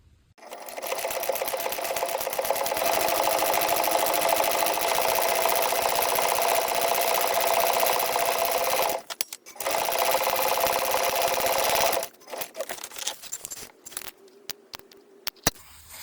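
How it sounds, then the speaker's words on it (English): A sewing machine stitches a seam across laptop bag lining in one long continuous whir, pauses briefly near nine seconds, runs again, then stops, followed by a few faint handling clicks. "we're going to take this to the machine and we're going to seam right across at the seam allowance given in the pattern"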